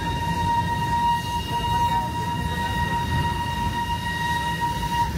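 Darjeeling toy train rolling past Batasia Loop, a steady rumbling run with a sustained high whining tone over it, continuous and fairly close throughout.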